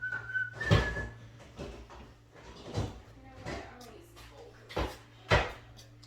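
A person whistles a few short melodic phrases near a home workspace, with cupboard or door knocks and other household handling noises around the whistling.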